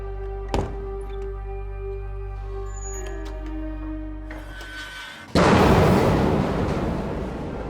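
A single sharp door-slam bang near the start in a hospital hallway, then a low hum, and later a sudden loud roaring rush that continues to the end.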